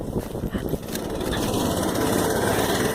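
A small minibike engine rumbles at a steady idle, a low continuous chugging drone with a few uneven knocks at the start.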